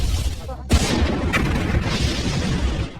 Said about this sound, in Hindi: कोलंबिया स्पेस शटल में एक धमाका हो गया है।